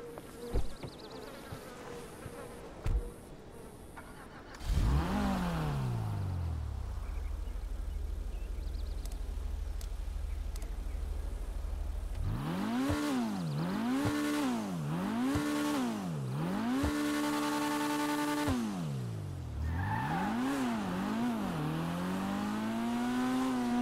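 Tuner cars in GTA Online rev and accelerate through repeated gear shifts, the engine pitch climbing and dropping in sweeping waves, loud and close after a quieter idle start.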